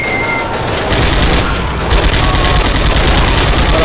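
A gun turret fires in Commandos Strike Force, a steady, close burst of rapid automatic shots with booming impacts blending under the rattle.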